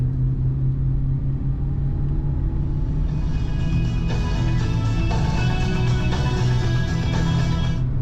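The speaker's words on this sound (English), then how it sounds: "Smooth ride out of this car." A 1989 Cadillac Brougham sedan cruising on the road, its low steady engine and road rumble droning continuously with no talk, a faint rattle or ticking joining in the second half.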